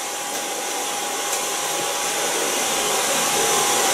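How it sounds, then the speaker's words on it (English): A hair dryer blows hair dry, a loud, steady roaring whoosh with a faint constant whine, running without a break and no talking. "so I blow dry this and then I take you in"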